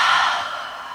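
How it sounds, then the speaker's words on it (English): A single long, breathy exhale through an open mouth during a yoga breathing exercise, soft and close, fading gradually like a sigh. "And exhale, open the mouth, fogging up the mirror."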